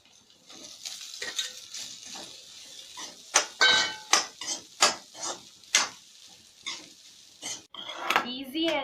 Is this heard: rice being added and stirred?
yes